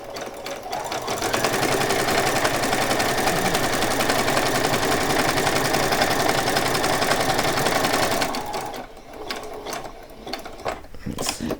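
A sewing machine runs a steady zigzag stitch around the edge of a small piece of cloth for doll cleaning items, a fast, continuous mechanical whirr that stops after about eight seconds, followed by quieter handling clicks.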